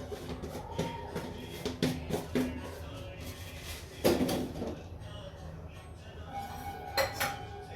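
Dishes and utensils clatter and clink intermittently as they are stacked and put away, with a few louder knocks of pots among quieter handling.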